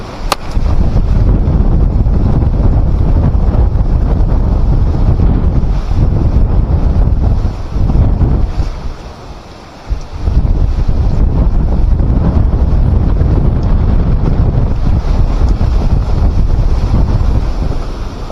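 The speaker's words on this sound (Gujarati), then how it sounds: "પવન બહુ જોરદાર છે" Strong storm wind with a cyclone-like force batters a village during a summer rainstorm, roaring as continuous loud buffeting on the microphone for most of the stretch, easing briefly midway before surging back at full strength.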